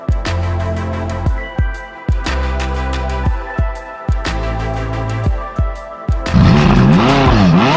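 A McLaren 570S sports car with a twin-turbo V8 accelerating hard through repeated rapid gear changes, loud and close, each upshift cutting the roar before it climbs again, then a wavering wail near the end.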